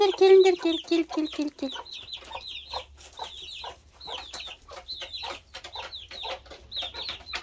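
Hens and chicks cluck and cheep in a farmyard, with sharp high chirps repeating through the whole stretch and a person's voice briefly underneath.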